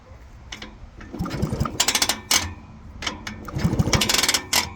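Two 1970 125cc motorcycle engines, a Husqvarna and a Penton, being spun over after decades of sitting, giving a series of mechanical clunks and ratcheting turns in uneven bursts, close and moderately loud, with no talking.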